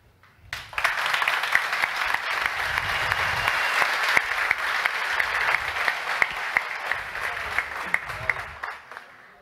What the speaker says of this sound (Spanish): pido un fuerte aplauso nuevamente para Guillermo Tarelli, por favor.